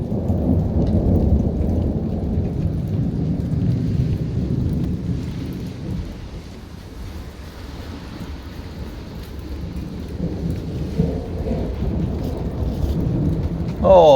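A thunderstorm with constant, non-stop rolling thunder and heavy rain, a dense continuous low rumble under steady rainfall, loud and close throughout, swelling again near the end.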